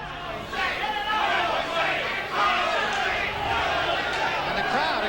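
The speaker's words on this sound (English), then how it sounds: "the crowd again showing its both appreciation and support for Jose Ribalta" A boxing arena crowd cheers and chants loudly for Jose Ribalta during a Mike Tyson fight, a dense, sustained roar of many voices swelling and holding.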